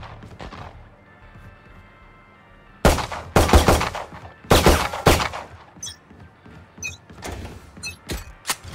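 Gunfire in the Valorant shooter game, loud bursts of rapid shots in several separate volleys after a quiet stretch, with sharp single cracks and background game sounds between them.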